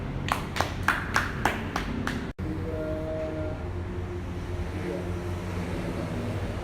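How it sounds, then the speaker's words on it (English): Brief applause at a press conference for Burning Sun, a handful of sharp claps in the first two seconds cutting off abruptly, followed by a low room hum and faint background noise. "Let us applause."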